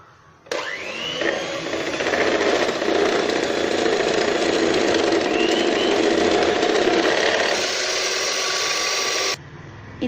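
An electric mixer beats chocolate cake batter after a pinch of salt is added, whirring loudly and steadily for about nine seconds after starting abruptly, then cutting off.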